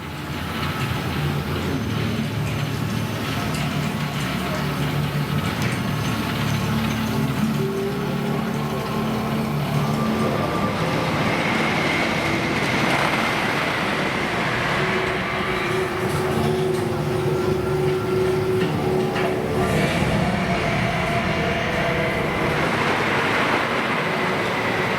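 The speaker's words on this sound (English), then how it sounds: "First train has just left the station and making its way up the lift hill." Wicker Man wooden roller coaster train at Alton Towers climbing the chain lift hill, a continuous low rumble and clattering drone at steady volume, heard from nearby amid outdoor crowd noise.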